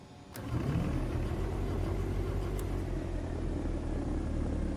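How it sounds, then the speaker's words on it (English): Simulated aircraft engine in the X-Plane 11 flight simulator cranking and catching, then settling into a steady, loud low rumble that holds throughout, with no talk over it. "I think it's enough, and we can start the engine."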